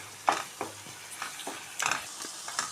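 Chana masala sautéing with coriander in a pan, a quiet sizzle broken by repeated spoon scrapes and taps at irregular intervals.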